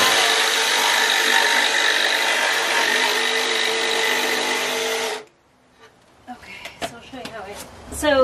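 A circular saw cuts into a wooden cabinet with a loud, steady whine for about five seconds before stopping abruptly, followed by scattered clatter and handling noises.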